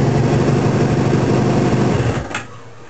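A 1981 Suzuki GS650G motorcycle engine runs at a steady, fast idle close by, a loud continuous buzzing hum that cuts off abruptly near the end.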